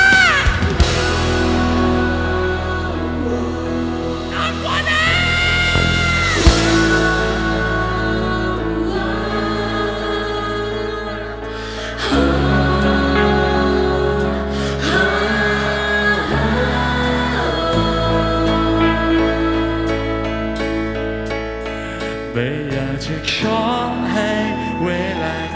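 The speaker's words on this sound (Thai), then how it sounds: "นี่คือเสียงของทุกคนครับนี่คือเสียงที่อยากได้ยินที่สุดในเวลานี้" Crowd singing along with a live band at the Pattaya Music Festival 2016, a sustained wash of many voices blended into the loud, continuous music throughout.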